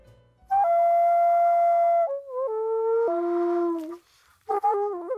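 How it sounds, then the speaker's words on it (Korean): A solo Korean daegeum bamboo flute holds long, clear notes, sliding down between pitches, then pauses briefly before a final short phrase. "죽향을 품은 대금 소리"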